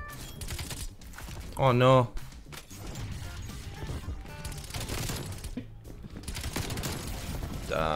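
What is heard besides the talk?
PPSh submachine gun fire in Call of Duty Cold War video game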